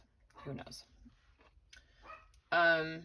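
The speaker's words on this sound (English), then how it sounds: "Sorry if you can hear my dogs barking." Pet dogs indoors at home, reacting to something outside: a single loud, close bark bursts out near the end after a woman's speech.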